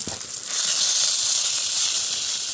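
Food frying in oil in a pan on a hot tent stove, a steady loud hiss and sizzle that swells after a brief quieter start.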